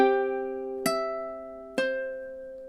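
Ukulele playing a short bar of a lullaby: three plucked chords in even time, each bright attack ringing out and decaying before the next, close and clean with no talking.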